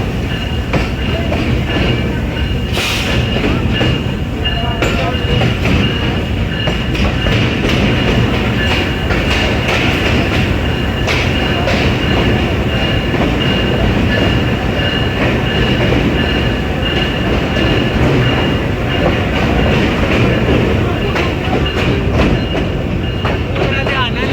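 Passenger train running on the Jhelum to Wazirabad line in Pakistan, heard from on board as a loud, continuous rumble with rhythmic clickety-clack of wheels and occasional squeals, with faint background voices.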